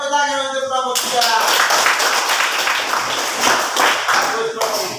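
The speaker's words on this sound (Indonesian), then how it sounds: "Tepuk tangan untuk kelompok 3." A classroom group claps for group 3 during a teaching practice session, a brisk burst of hand claps following a speaking voice, fairly loud and close, with talk resuming at the end.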